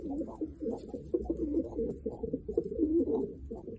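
Tumbler pigeons coo close by, a soft, low, throaty burbling that rolls continuously in overlapping phrases at moderate volume.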